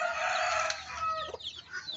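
A rooster crows loudly and close, followed by scattered clucking from chickens nearby.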